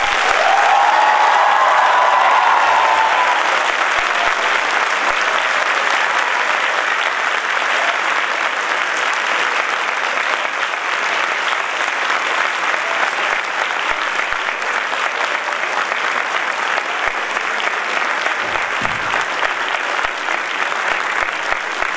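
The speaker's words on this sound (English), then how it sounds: "Give them a clap." Large audience at a university convocation applauding the graduating class of 2014, sustained loud clapping from a packed hall that continues evenly for over twenty seconds, with a brief tonal sound early on.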